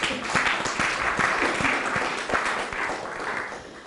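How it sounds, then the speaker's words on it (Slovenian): Audience applause at an evening event, close individual claps standing out over a wash of steady clapping that slowly thins toward the end. "Morda z aplavzom."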